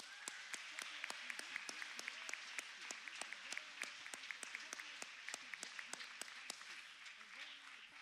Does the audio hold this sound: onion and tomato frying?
no